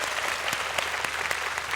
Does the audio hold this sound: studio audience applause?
yes